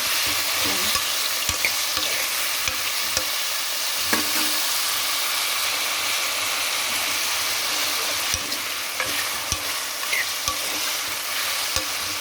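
Vegetables frying in oil for masala rice, with onion, green chilli, carrot, tomato, potato and curry leaves in the pan. A steady, close sizzle continues throughout, broken by occasional stirring scrapes.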